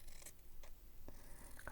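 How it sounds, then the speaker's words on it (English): A few soft, crisp snips of scissors cutting fabric, spaced irregularly against a quiet room. "Got my good better scissors here."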